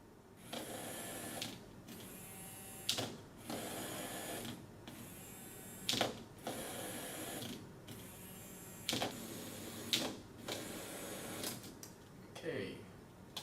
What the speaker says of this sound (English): Now we should see the motor working once I connect up the battery.